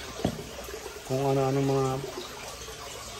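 Water is poured over catfish feed to soften it, making a steady splashing, rushing wash under a person speaking, with a short tonal hum partway through.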